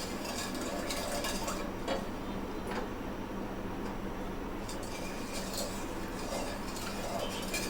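A spoon stirs sugar into milk in a pan, producing a continuous scraping swish with faint metallic ticks against the pan, close and steady with no talking.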